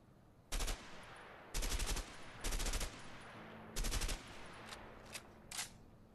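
Gunfire in the video game A Way Out comes as several loud bursts of rapid shots, some long and some short, spaced irregularly with brief pauses between them.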